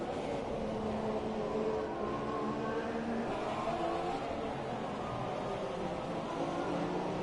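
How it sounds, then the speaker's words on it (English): A race car engine on a circuit during an IRL round in Brazil, the driver working the throttle through a corner, producing a continuous roaring drone with shifting pitch at a steady, fairly distant level. "You can really hear him working that throttle coming through that corner."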